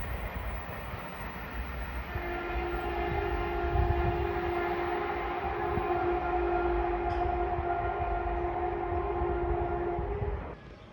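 A train runs through Chard Junction on the Waterloo-Exeter line, a steady rumble for about ten seconds with a long sustained horn-like tone in the middle that fades out near the end. No one speaks.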